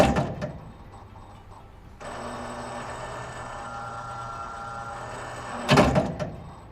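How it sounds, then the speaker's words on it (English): Substation voltage regulator changing tap position: a steady mechanical hum starts abruptly and runs for several seconds, ending in a loud clunk as the tap mechanism steps, with faint knocks before it. "Here's the sound of a normal stepping of the regulator taps."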